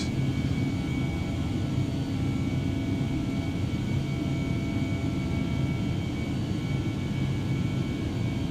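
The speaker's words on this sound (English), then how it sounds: "Those engines sound so good." Airbus A319 jet engines in the MSFS2020 flight simulator, easyJet livery on a climb out of Belgrade: a steady, loud, broadband engine roar with a faint high whine, continuous and unvarying throughout with no talking.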